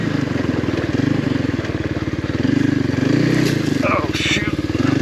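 A Kawasaki KLX 300R dirt bike out on a trail, its single-cylinder engine chugging in a rapid, even pulse and rising loud and close as the rider accelerates, with a few brief clatters mixed in.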